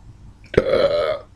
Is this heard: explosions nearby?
no